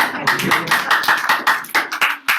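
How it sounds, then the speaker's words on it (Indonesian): Applause from a church congregation during a Sunday worship service, a short burst of dense hand clapping with irregular sharp claps, fairly close and loud, with a voice speaking partly over it. "Tepuk tangan lagi sekali lagi."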